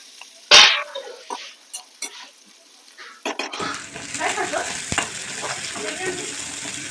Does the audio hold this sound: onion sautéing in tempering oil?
yes